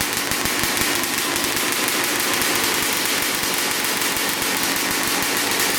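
A Honda dirt bike engine runs steadily with a loud, rapid popping exhaust, dense and continuous throughout, with no talking.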